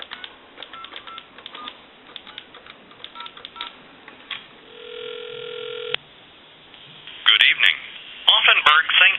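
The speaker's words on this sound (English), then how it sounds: "Give you some dial tone, and we have our line out, and I can go ahead and dial like a time and temp number" A Thomas limited edition telephone gives a steady dial tone for about a second and a half, then a quick run of touch-tone dialing beeps for a time and temperature line, loud and close, with someone talking earlier.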